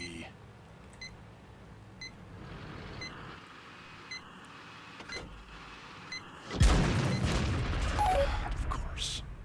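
Tank cannon fire in a video game: a heavy boom erupts partway through and broad rumbling follows, after a stretch of quieter game sounds with repeated short beeps.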